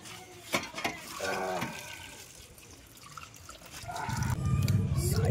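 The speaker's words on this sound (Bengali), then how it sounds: "মাছ, আমরা সেটাকে এবারে চট করে ধুয়ে নেবো ভালো করে" Tap water runs over vetki fish as it is washed in a kitchen sink, a steady close splashing and trickling that swells louder toward the end, with brief voice sounds in between.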